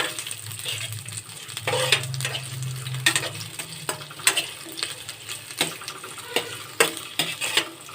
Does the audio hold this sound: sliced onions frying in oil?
yes